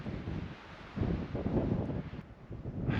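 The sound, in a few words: wind on a mountain summit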